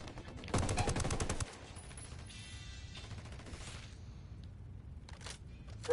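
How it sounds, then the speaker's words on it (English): Video game gunfire: a rapid automatic burst of about a second, followed by quieter scattered shots and a brief later rattle, all somewhat distant and faint. "Who's shooting?"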